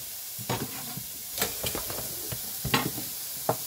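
Chicken and capsicum sizzle in a hot pan while being stirred, with scattered close scrapes and clacks of the utensil over a constant frying hiss.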